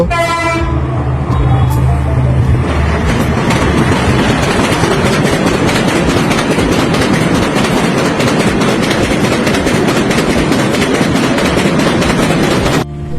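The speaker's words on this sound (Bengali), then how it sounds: "তাই আমি খুব তাড়াহুড়ো করে এখান থেকে চলে যাচ্ছিলাম এবং একটি ট্রেন আসছিল" A train rolls across a bridge over a river, loud and close, with a horn blast at the start followed by a continuous heavy rumble and rhythmic clatter of wheels that lasts the whole time.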